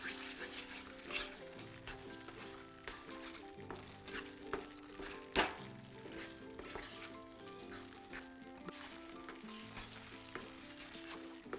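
Wheat flour sheera with cashews stirred in a hot pan, a steady sizzle with repeated scraping and clinking of the spoon against metal, close and moderately loud, no talking.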